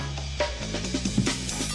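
The Amen break: a dense, punchy breakbeat drum loop with crisp snare hits and busy cymbals, played loud and continuous over a low bass layer.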